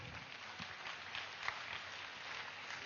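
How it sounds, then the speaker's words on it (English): A crowd applauds at a meditation summit, continuous even clapping heard somewhat distant and muffled, holding at a steady moderate level throughout. "Let's give a huge round of applause to Mega Meditation Summit."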